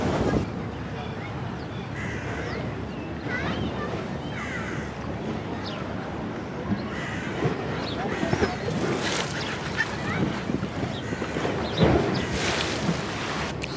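Seaside ambience of rolling waves and steady wind, a continuous broad wash of noise with occasional crow caws and a boat passing nearby.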